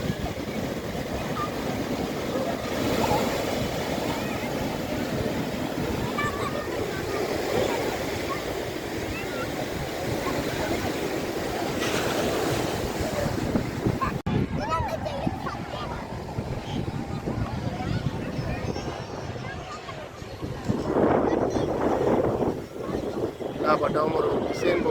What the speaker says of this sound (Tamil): அண்ணாக்கள் 2 பேரும் அலைக்குள்ள விளையாடுறாங்க